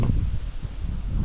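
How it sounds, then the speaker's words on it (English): Strong outdoor wind buffets the microphone at a drone test flight, a low rumbling gusty roar that swells and eases, with no speech. "the wind is pretty strong"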